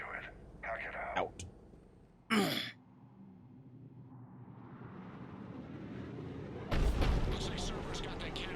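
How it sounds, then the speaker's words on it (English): Cannon artillery fire in the Mass Effect 3 video game: a sharp, heavy blast lands between stretches of voice, a long rising rumble builds, and a second loud burst breaks in near the end. "Looks like Cerberus got that cannon operational"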